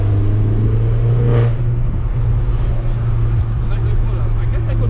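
An R56 Mini with a big turbo upgrade pulls hard under heavy throttle, a loud steady engine drone with a rising harmonic that carries throughout, close to the microphone and faintly under an occasional voice.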